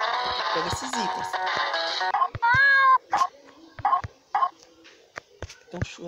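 Several short, high meows from a cat in The Sims Bustin' Out sound in a row over busy game music and effects, with a voice talking briefly near the start.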